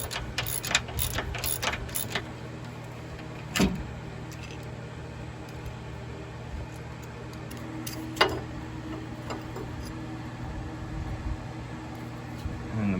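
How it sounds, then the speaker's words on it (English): A ratcheting wrench works on a car's front control arm and sway bar. A quick burst of clicks comes at the start, followed by occasional sharper clanks over a steady low mechanical hum, close by, with no talk. "these ratcheting wrenches,"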